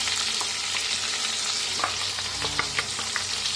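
Ground masala paste fries in a pan with cumin while a spoon stirs it, making a constant close sizzle broken by scraping strokes and small taps, with no talking.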